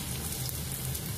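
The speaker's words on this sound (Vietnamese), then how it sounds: "Mình chiên cái khoai cao này" Cut potatoes fry in hot cooking oil, giving a steady close sizzle with a faint low hum beneath, quiet and continuous with no talking.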